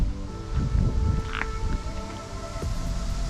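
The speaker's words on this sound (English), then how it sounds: "It's been also very windy." Steady wind buffets a rainy, muddy campsite at Riding Mountain National Park, a constant low rumble and rustle with occasional gusts, heard close to the microphone and without talk.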